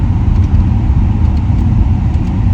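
A car drives along a road, giving a steady low engine and tyre rumble heard from inside, continuous and fairly loud with no talk over it.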